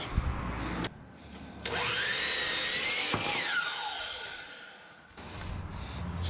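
Wood board for a box mantel sawn in half with a power saw: a short start-up, then a loud whining cut lasting a few seconds that pitches down as the blade spins down, amid workshop noise.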